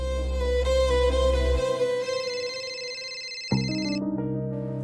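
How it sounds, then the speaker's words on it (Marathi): A mobile phone rings with a steady, tuneful electronic ringtone that carries on close and clear for about five seconds, its pitch and pattern changing partway through, with no talking. "माझा फोन वाजतो."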